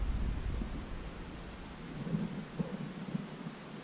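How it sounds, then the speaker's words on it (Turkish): Steady rain hisses and patters outdoors during a fishing outing, with a deep rumbling underneath, constant and moderately loud, with no voices. "Ara ara yağmur başlıyor. Bugün yağışlı ama."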